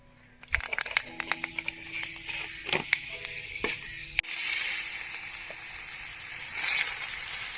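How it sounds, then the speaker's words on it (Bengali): Fenugreek seeds drop into hot oil with scattered crackles and pops, then a loud sizzle surges up and keeps hissing close by. "তেলে আমি মেথি ফোড়ন দিচ্ছি"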